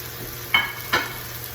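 A quiet, steady sizzle from thinly cut beef in a hot frying pan, broken by two brief scraping stirs.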